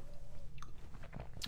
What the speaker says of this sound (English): I'm munching on a cough drop